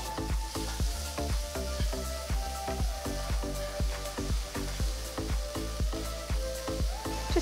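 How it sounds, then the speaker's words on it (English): Finely chopped onion, ginger and green chilies fry in a pan for kara kuzhi paniyaram, a continuous loud sizzle broken by regular rhythmic scrapes and taps of a spatula stirring through the whole stretch. "Next I'm adding 1 medium-sized onion that's finely chopped"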